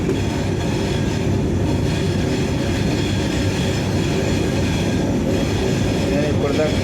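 A Vande Bharat train runs at speed between Secunderabad and Tirupati, giving a loud, steady rumble of wheels on rail with faint rhythmic clatter heard from inside the carriage.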